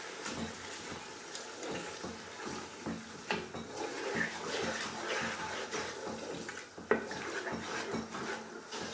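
A blended tomato and pepper stew base for Nigerian jollof rice being mixed in a pot: soft wet sloshing with scattered spoon knocks against the metal, fairly quiet and close.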